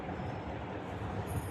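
Passenger train running on rails from Sambhajinagar toward Mumbai near Kasara Ghat, a steady low rumble and rolling clatter heard from inside a carriage, continuous and moderately loud with no talking.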